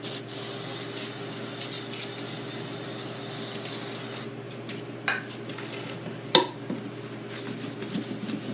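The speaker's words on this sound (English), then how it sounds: "we're gonna degrease it with brake clean once again" Brake cleaner sprayed onto an RC car chassis to degrease it, a steady close hiss lasting about four seconds, followed by a few light clinks and taps.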